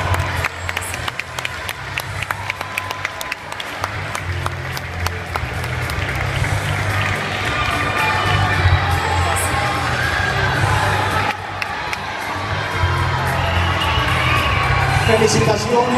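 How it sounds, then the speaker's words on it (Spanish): Audience at the Miss Ecuador 2015 beauty pageant applauding and cheering for a finalist, a loud sustained wash of clapping, shouts and whoops with booming music underneath, building slightly and carrying on throughout. "Un fuerte aplauso, por favor."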